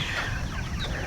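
Backyard chickens kept under a large apple tree cluck close by in a short, busy burst of overlapping calls.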